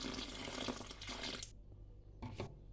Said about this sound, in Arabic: صافي دابا نخوي الماء.